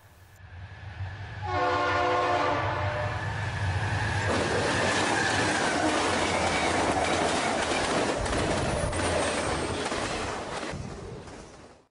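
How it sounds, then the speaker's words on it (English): A Santa Fe freight train rolls past on the Sunset Division in Garry's Mod, its horn sounding a loud sustained chord for a few seconds before giving way to a continuous rumble and clatter of wagons that fades out at the end. "we see a westbound sand train"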